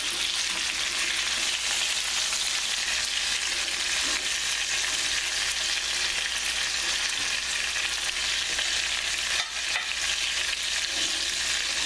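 Cornmeal-encrusted chicken thighs with roasted garlic frying in a pan, a dense, even sizzle that holds close and loud from start to finish, with no one talking.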